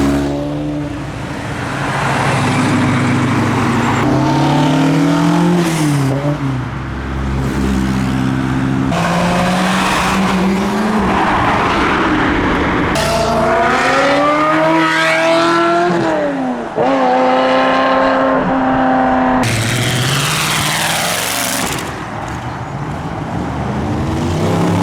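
Modified and classic cars pull away from a car show one after another, engines revving and accelerating loudly with rising and falling pitch, occasional tire squeal, continuous traffic noise throughout with no talk.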